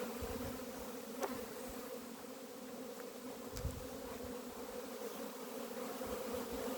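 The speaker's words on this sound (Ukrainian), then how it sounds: "бджола загуділа" Honey bees at an apiary during an abnormally cold spring give off a steady, dense buzzing hum that fills the whole clip without a break, with a couple of brief louder passes of individual bees close by.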